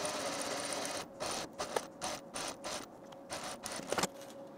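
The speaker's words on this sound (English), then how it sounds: "I'm going to start at the underarm seam here, sewing from the right side and edge stitch along the seam, catching the band underneath" A sewing machine edge stitches the underarm and sleeve cuff seam of a Swanton blouse from the right side, catching the band underneath. It runs in close, steady bursts separated by short pauses, with no talk.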